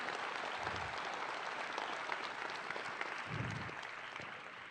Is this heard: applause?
yes